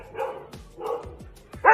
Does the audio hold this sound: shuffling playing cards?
no